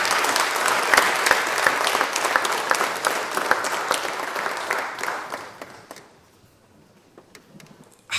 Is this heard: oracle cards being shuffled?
no